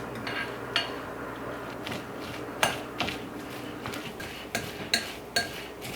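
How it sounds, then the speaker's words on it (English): A utensil works an egg into gluten-free pie crust ingredients in a mixing bowl, giving a steady run of light clinks and scrapes against the bowl with a few sharper knocks. "really get that egg mixed around all of the other ingredients"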